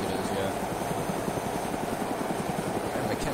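Helicopter in the DayZ video game whirring at a steady pace, its rotor chop pulsing rapidly under a broadband engine wash, fairly close and moderately quiet.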